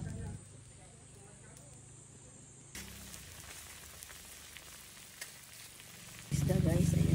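Meat frying in a pan of hot oil, a steady crackling sizzle that jumps louder partway through, with a brief knock and a voice speaking near the end.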